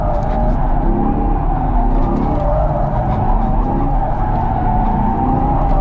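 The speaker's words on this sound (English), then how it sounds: "I'm getting the back end to come around now with PTM off. Low speed here, stab it in. Sustained drift happening" All-wheel-drive Chevy Corvette E-Ray in a low-speed sustained drift with traction control off, tires skidding and squealing continuously over a steady engine drone, close and loud with no talk.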